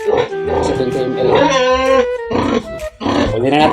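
A sow on a pig farm grunting and squealing in loud, close bursts, mixed in with people talking nearby.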